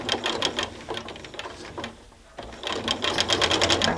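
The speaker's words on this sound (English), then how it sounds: "I'm just going to sew 1/4 inch away from the edge I just cut." A sewing machine stitches a quarter-inch seam on a scrappy quilt panel, running in quick rhythmic bursts of needle clatter, pausing briefly halfway, then resuming at a steady fast pace, close and moderately loud.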